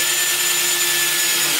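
Power drill driving a threaded part on a large arcade stick build, a steady close whirring hum with constant pitch throughout.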